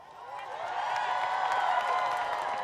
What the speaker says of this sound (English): Can everybody please give one more big round of applause for this amazing collection of talent?